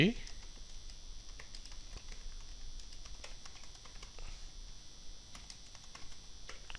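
Steady soft clicking of a computer keyboard as C code is typed, close and continuous over a faint background hum.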